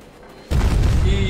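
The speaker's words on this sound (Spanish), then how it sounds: "¿Qué era eso, men? Una mina" A mine blowing up in the video game Battlefield: a sudden loud, deep boom halfway through that stays as a dense, rumbling roar to the end.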